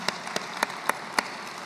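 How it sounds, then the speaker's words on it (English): A few distinct, widely spaced claps ring out over a steady background hiss at an energy industry conference, as a small group gives a sparse round of applause. "I'd like to give them a round of applause."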